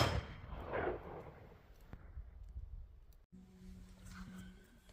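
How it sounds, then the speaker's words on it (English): A gunshot from a handloaded round whose primer blew out, fired outdoors: loud broadband blasts with a sharp crack near two seconds, a brief dropout, then a steady low hum beneath a noisy background. "we had a primer blowout of one of the rounds that I built"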